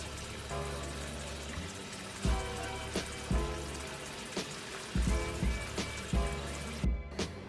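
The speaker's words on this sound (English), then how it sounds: "always wash the hair with cold water" Cold water rinsing dyed hair, a steady pour and trickle with intermittent splashes and thuds, fairly quiet and close, no talk.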